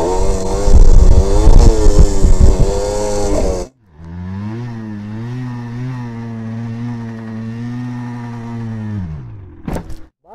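A motorcycle engine revs hard during wheelie practice, first a loud, rough burst of throttle, then a sustained high drone that holds steady before cutting off abruptly near the end.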